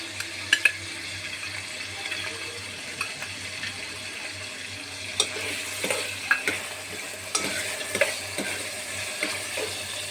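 Ginger-garlic paste, two green chillies and whole spices go into a pan for chole pulao and fry with a soft steady sizzle, under intermittent spoon stirring and clinks, close and moderately quiet.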